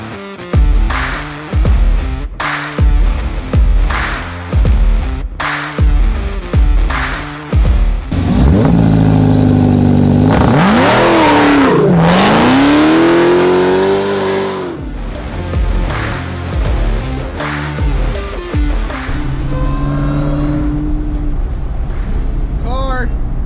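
A 1,100-horsepower Dodge Hellcat Redeye blips its engine in a series of short, loud revs, then holds a long roaring high-rpm burnout with rising and falling pitch before settling, with voices shouting nearby.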